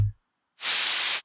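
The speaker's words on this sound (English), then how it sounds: "if we take a listen to what a white noise generator would sound like, it would sound like this." White noise from the generator on a Nekyia modular synth module, a steady loud broadband hiss that switches on abruptly, holds for about half a second, then cuts off cleanly.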